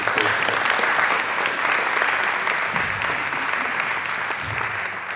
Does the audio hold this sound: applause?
yes